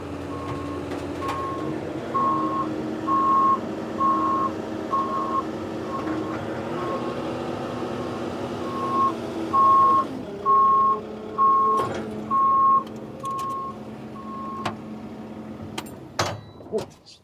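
A truck sounds steady reversing beeps while backing off an extra-wide equipment tilt trailer after it tilts all the way down, the repeated tones rising over a low engine rumble with mechanical clunks near the end.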